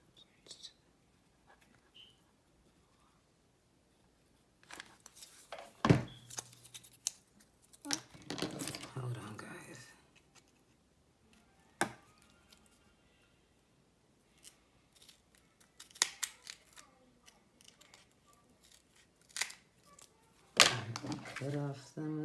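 Scissors snipping off excess cardboard while a handmade box is assembled, several short crisp cuts in scattered bursts with quiet pauses between, close by, alongside soft handling rustles.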